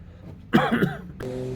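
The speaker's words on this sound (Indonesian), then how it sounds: "Mohon maaf agak batuk-batuk." A man gives a few short, harsh coughs close to the microphone, a brief burst followed by a quieter throat sound against a faint steady background hum.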